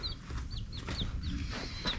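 A hen held in someone's arms gives a run of short, high, squawking clucks at an uneven pace, close and fairly loud, over low background rumble.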